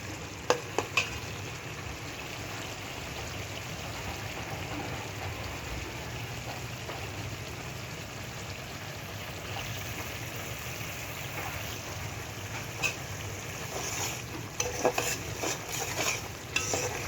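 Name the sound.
spices being sautéed and stirred in a pot for khichuri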